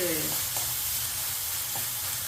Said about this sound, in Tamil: வெங்காயம் நல்லா வதங்கிடுச்சு தக்காளியை போட்டுக்கிறேன்